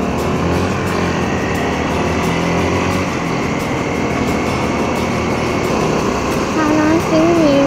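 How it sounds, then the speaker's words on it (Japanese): A Kawasaki D-Tracker 150 motorcycle engine hums steadily and close, a constant, even drone with a slight rise in pitch near the end. "Dトラッカー150に乗ってきました。"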